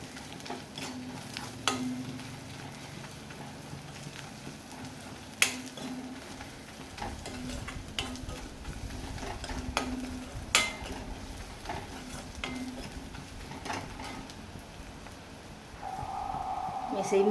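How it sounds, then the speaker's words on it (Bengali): Turmeric, cumin and coriander powders are stirred in a frying pan, giving a faint steady sizzle with occasional scrapes and taps of a spoon against the pan, close by and low in level. "হলুদ গুঁড়ো, জিরার গুঁড়ো, আর এই যে ধনের গুঁড়ো দিয়ে ভালো করে আমি নেড়ে চেড়ে নেবো।"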